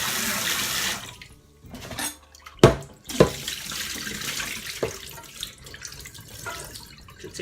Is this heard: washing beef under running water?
yes